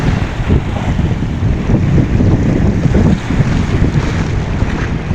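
Strong waves crash against the shore in a continuous roar, buried under heavy, blustery wind rumble that buffets the microphone, with no voices present.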